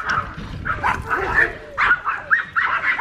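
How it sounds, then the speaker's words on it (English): Dog barking on a spring countryside walk, a run of repeated loud barks in quick succession, fairly close, with no speech over them. "There's a dog."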